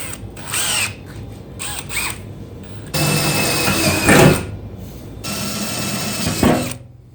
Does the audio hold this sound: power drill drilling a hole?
yes